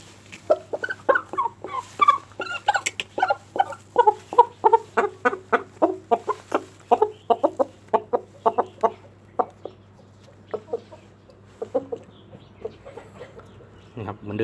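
Repeated short clucks from a chicken being held, in a steady, busy rhythm, close and fairly loud over a low constant hum, with no talking.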